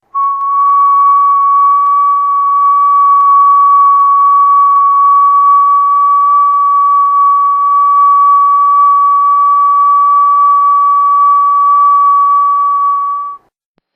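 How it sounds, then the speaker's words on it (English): A single steady whistled tone made with the lips and no fingers, held evenly and unbroken for about thirteen seconds, loud and close, then cut off. "Blow now evenly and whistle a tone."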